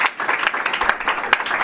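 Congregation applauding during a church service, a steady burst of many hands clapping that fills the whole moment, fairly loud and with no talk over it.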